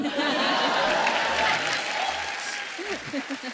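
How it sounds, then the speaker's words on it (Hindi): A studio audience on a comedy talk show claps continuously, dense applause filling the space with some laughter and a voice speaking over it. "ये बजा दो यार, तालियां बजाओ"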